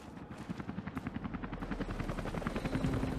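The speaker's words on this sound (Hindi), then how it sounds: "हेलीकॉप्टर." Helicopter in the video game Rise of the Tomb Raider, a rapid rhythmic rotor thump that grows steadily louder as it approaches, with no talking over it.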